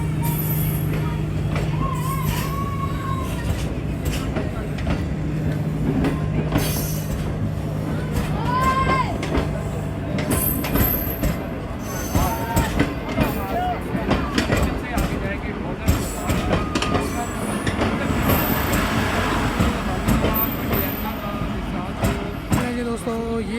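Bulleh Shah Passenger train running from Lahore to Kasur and Pakpattan, heard from inside the carriage as a steady loud rumble and rattle with wheel clatter, passengers talking throughout.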